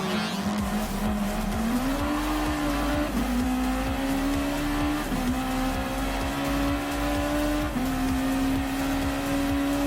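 Race cars in Gran Turismo Sport drone loudly and steadily as an engine holds a high note, rising and dipping through gear changes. Tires squeal and other cars pass nearby.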